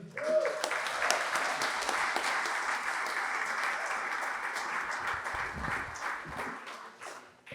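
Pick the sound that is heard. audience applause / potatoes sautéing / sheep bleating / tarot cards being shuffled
audience applause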